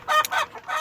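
Free-range native Indonesian hens (ayam kampung) in a breeding coop clucking and squawking up close, a short burst of bright, overlapping calls.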